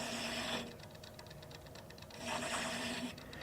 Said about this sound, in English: I'm going to start my cut here. Bring my cutter around.